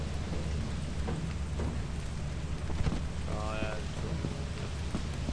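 Steady rain on the Rainy planet in the Lethal Company video game, a dense continuous patter with low rumbling beneath, while voices speak briefly over it.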